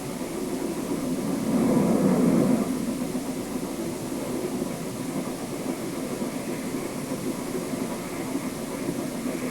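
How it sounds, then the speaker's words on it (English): A Maine Central piggyback freight train rolls past on its way to Portland, a steady broad rumble of engine and wagons that swells briefly early on and then holds at an even, moderately loud level throughout, with no talk. "Piggyback train on the way to Portland."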